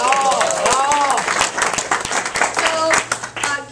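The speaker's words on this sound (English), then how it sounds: "Let's give him a clap." Lecture audience claps for a volunteer called down to the front, short scattered clapping heard under continuous talking.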